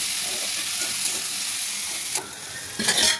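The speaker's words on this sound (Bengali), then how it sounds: "এবার টমেটো কুচিগুলো দিয়ে দিলাম, দিয়ে ভালো করে একটু কষে নেব" Chopped tomatoes sizzling and frying in a hot pan as they are stirred, a dense continuous hiss with scraping stir strokes near the end.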